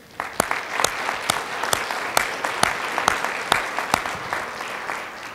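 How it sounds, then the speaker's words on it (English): An audience at a national registry summit gives a sustained round of applause, steady crowd clapping with a few sharp, close individual claps standing out throughout. "I think Jessica deserves a big round of applause."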